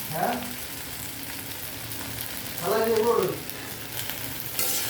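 Onions frying in a pan with a steady sizzle, cooked for a Bengali okra do-piyaza with garlic and ginger; a stirring scrape swells midway through before the frying settles back to a constant hiss.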